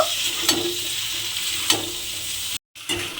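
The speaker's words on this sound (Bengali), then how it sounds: "সেই ভেজানো ছোলাটা আমি এর মধ্যে দিয়ে দিলাম দিয়ে আবারও কিন্তু একটু ভালোভাবে কষিয়ে নেব" Soaked chickpeas sauté in a hot pan with vegetables, giving a steady close sizzle with a few scraping stirs and one brief dropout.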